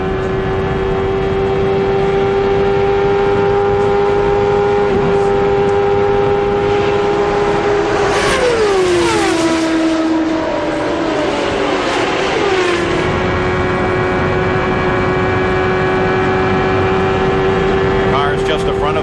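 Onboard engine of Nigel Mansell's race-leading car at the 1993 CART Michigan 500, a loud sustained high-pitched whine that drops as the throttle lifts around the middle and then climbs back up, with a commentator talking over it.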